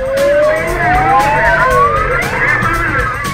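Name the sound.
police car sirens during a chase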